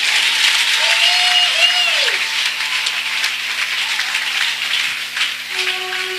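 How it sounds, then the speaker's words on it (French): A church congregation at a Saturday Holy Spirit gathering breaks into sustained, dense applause that fills the room, steady and loud throughout with a few brief tonal sounds rising above the clapping. "Acclamez Dieu pour sa présence."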